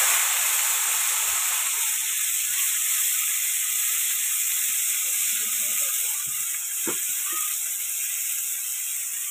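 A paste of mustard seeds and green chillies hits a hot pan for Bengali kochu shaak with prawns, giving a steady, loud sizzling hiss that holds for several seconds with only faint background stirring.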